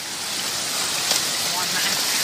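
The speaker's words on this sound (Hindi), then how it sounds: "कम ऑन जिग्नेश, पानी में बहुत प्रेशर है, कभी भी स्लिप मार सकते अपन." Fast, high-pressure water rushing at a waterfall on a trek, a dense, steady hiss and splash that fills the whole clip close by, with no clear voices heard.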